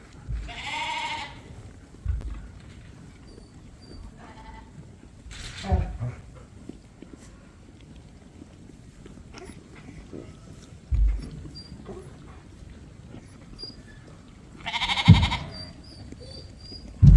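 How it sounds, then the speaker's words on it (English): Sheep and lambs bleat in a few loud, separate calls close by at a farm feeder, with quieter shuffling and someone talking between the cries. "I'm at the front of the feeder, and these are the"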